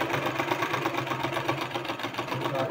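A sewing machine runs a continuous fast stitch while a neck design is sewn onto fabric, with a steady, close, rapid mechanical whirring and no breaks; no one is talking.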